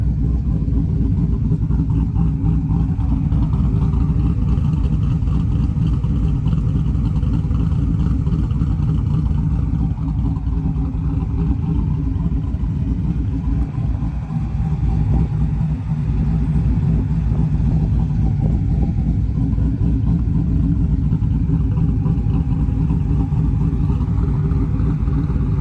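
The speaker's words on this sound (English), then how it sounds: "Here's a little idle chop for you." An LS-swapped OBS Chevy truck idles with a choppy cam, a loud, close, deep rumbling lope that continues steadily and alone throughout.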